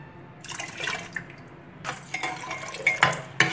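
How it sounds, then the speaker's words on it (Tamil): Dissolved tamarind water poured into a pot of sambar ingredients in a home kitchen, giving soft intermittent splashing and dripping with a few sharper liquid spatters near the end, close and fairly quiet, with no talking. "அப்புறம் புளியை வந்து கரைச்சி அதில் விட்டுக்கோங்க."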